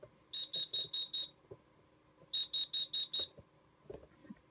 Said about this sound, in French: tant que c'est réarmé, on ne peut pas arrêter le buzzer